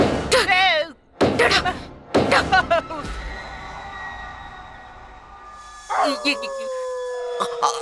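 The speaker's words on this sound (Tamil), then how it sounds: "நாய் அழுதுட்டு இருக்கிற மாதிரி சத்தம் மட்டும் கேட்டுட்டே இருந்ததா" A dog howls long and wavering inside a house at night, mixed with sharp thumps and voices talking over it, the mournful tone sliding down and trailing off.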